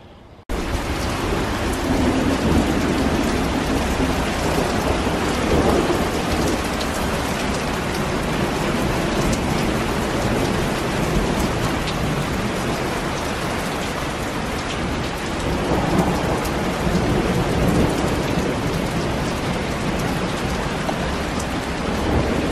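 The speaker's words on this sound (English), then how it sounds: "Finally got our summer storm, and it's not even summer." A spring thunderstorm pours heavy, steady rain that hisses and patters loudly and without a break, with low rumbles of thunder rolling through underneath, and no voices.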